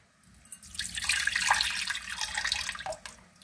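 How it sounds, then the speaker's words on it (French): Water poured out of a sprouting jar splashes and drips steadily into a basin, a continuous close trickling stream with no voices. "quand on vide l'eau, pensez à la recueillir"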